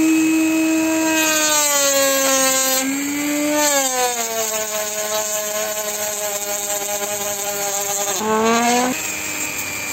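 A mini rotary die grinder, a generic Dremel-style tool, runs at a steady high-pitched whine while sanding the edge of a piece of wood. Its pitch dips and shifts as the bit is pressed to the wood and eased off.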